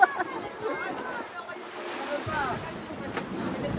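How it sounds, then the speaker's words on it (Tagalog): Strong ocean waves break and wash at a beach on Boracay, with a steady roar of surf and some wind buffeting the microphone, while people talk over it throughout. "Ang lakas ng alon."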